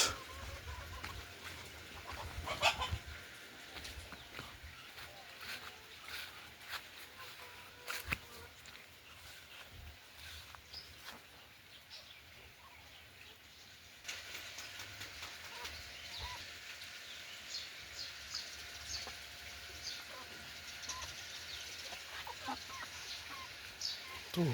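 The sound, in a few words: chickens clucking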